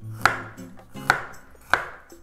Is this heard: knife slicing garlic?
yes